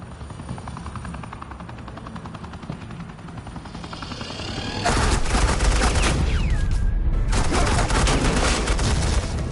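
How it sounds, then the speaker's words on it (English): Sustained suppressing gunfire in a Batman Telltale video game fills the scene from about the five-second mark. It arrives as a loud, dense continuous wash over a steady engine-like drone, with no talk. "This is Agent Quinn, suppressing fire."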